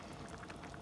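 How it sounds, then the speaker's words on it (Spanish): Nopales bubbling at a steady boil in a cooking pot, a dense, continuous wash of fine liquid burbling and popping heard close up and alone. "ya hirvió bien, está hirviendo muy bien"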